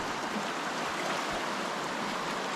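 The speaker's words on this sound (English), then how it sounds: "Flowing creek." Steady rushing and babbling of a flowing creek in the Alaskan wilderness, a constant broadband wash of water with no voices.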